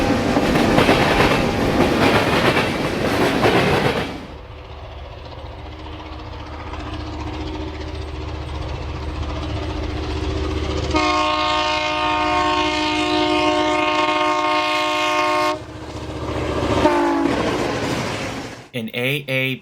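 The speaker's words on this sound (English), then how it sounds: "The parade concludes with San Francisco Chief Train number 2 heading east and approaching the western" Santa Fe San Francisco Chief passenger train number 2, led by an AABBA set of F7 diesels, rolls past Mormon Yard heading east with a loud rumble and long sustained horn blasts, then fades.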